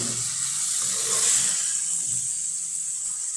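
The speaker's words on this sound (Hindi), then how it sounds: "ये 1 गिलास पानी हमने डाला है।" A glass of water poured into a pan of potato and cauliflower curry: a brief hissing, splashing wash that peaks in the middle and then settles into a quieter sizzle.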